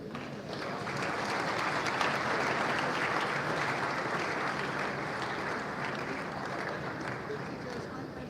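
An audience at a school speech and prize-giving ceremony breaks into dense, sustained applause that holds steady for several seconds, filling the hall with broad clapping noise.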